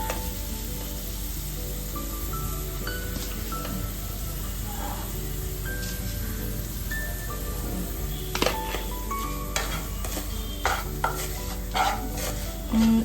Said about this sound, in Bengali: এবার আমি এর মধ্যে সুজিটা দিয়ে দিচ্ছি